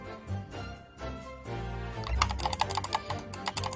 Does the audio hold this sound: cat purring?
no